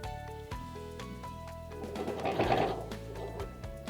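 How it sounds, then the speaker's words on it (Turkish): A sewing machine stitching fabric during a handicraft sewing job, running with a steady rapid mechanical chatter that rises in the middle, heard up close against a background of music. "Buralara dikiş yapıyorum."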